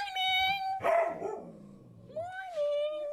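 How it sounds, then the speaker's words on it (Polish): A dog barks and yips in a few close, sharp, high-pitched bursts, with a whining, tonal quality between calls; no talking is heard. "Pieska straszą."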